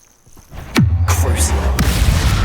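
A Revelio spell cast in Hogwarts Legacy: a rising magical whoosh that drops into a deep sustained rumbling hum, loud and close, with a bright shimmering sweep layered on top.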